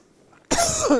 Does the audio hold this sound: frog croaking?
no